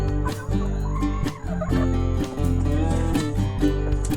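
Barred Rock hens in a backyard heritage flock cluck close by in repeated, uneven bursts, with short pauses between runs of calls.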